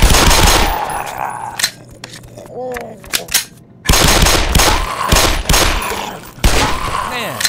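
Gunfire in the video game Black Mesa: loud rapid bursts of automatic fire and shots, broken by a short quieter gap with mechanical clicks, then more sustained firing.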